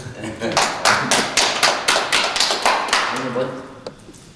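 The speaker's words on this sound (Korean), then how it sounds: "이거는 박수 쳐드려요" A small group on a talk-show stage claps in a regular rhythm, about a dozen even beats close and clear, with voices speaking faintly underneath.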